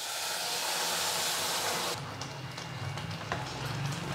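A steady hiss of boiling water pouring into roasted semolina for rava kesari, which drops off and gives way to softer bubbling and a faint clink near the end.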